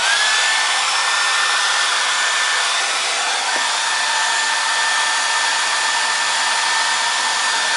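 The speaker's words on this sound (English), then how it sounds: "So I just use a hair dryer." A hair dryer blows steadily at close range while heating a plastic piece on a Camaro cold air intake during installation, a loud continuous whooshing hum that barely changes throughout, with no talking.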